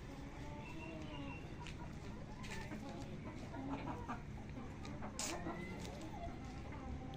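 An egg-laying hen clucks in a backyard coop where pigeons are also kept, giving a few close, irregular clucks and short calls over a steady background hum.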